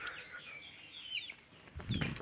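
Soft chirps and calls from muscovy ducks, with a louder rustling burst near the end.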